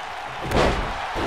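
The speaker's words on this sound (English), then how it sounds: "The tilt-a-whirl backbreaker." Heavy thud of a wrestler slammed down in a tilt-a-whirl backbreaker during a tag team match, a single loud impact ringing out over a steady crowd roar.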